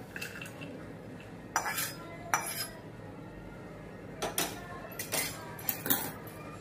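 Fried dry fruits are transferred into a bowl in a home kitchen, with several sharp metal utensil clinks and scrapes spaced apart, fairly quiet and with no talk.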